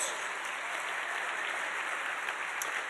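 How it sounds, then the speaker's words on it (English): Steady, sustained applause from an audience at a heart benefit program, honoring a ten-year sponsorship partnership with a camp, a dense even wash of clapping holding at the same level throughout. "So that especially deserves applause."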